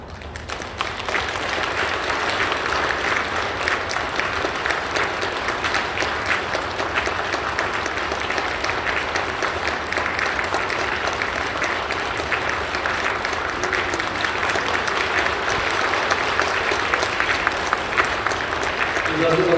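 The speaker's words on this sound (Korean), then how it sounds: "감사 영광의 박수를 드립니다" A church congregation claps together at a Christmas praise worship service in Incheon, a dense, steady roar of applause that holds for the full length without letup.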